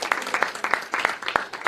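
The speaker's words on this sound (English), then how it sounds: "Big round of applause right here for all those talented filmmakers and actors." A film festival audience claps for filmmakers and actors, a modest, uneven burst of applause with distinct individual claps close by, fairly loud and fading in and out.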